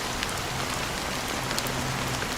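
Steady rain falls without pause in the Honkai Star Rail game, a dense, even hiss with scattered heavier drops and no voices.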